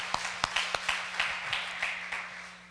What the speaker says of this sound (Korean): 우리 목사님과 또 장로님들께 감사의 박수 한번 드릴까요?